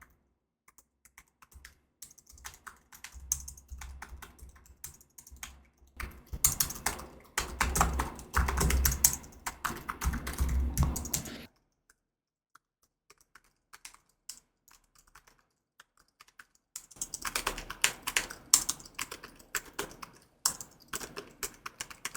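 Bursts of rapid computer keyboard typing, clicking keys in two long runs separated by a quiet pause, close to a Blue Yeti microphone on a shock mount, with no talking.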